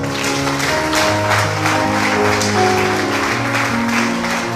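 Sustained applause from a worshipping congregation acclaiming the Lord during a French-language church service, steady and dense throughout with music and a faint voice underneath.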